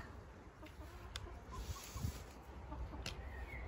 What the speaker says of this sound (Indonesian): Kau diketawain sama ayam tuh.